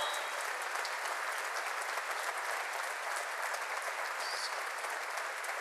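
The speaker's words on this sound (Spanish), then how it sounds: "Fuerte el aplauso" Steady, sustained applause from an audience at a live stage show, dense and continuous clapping at moderate distance for the full length with no talking over it.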